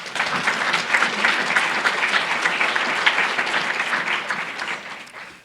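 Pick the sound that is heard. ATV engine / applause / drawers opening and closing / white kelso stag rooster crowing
applause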